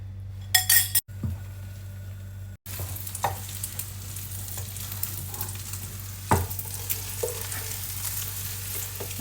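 Sliced shallots in a pan of oil, added while the oil is still cool, sizzling quietly as a utensil stirs and clinks against the pan in scattered taps and scrapes, with no talk.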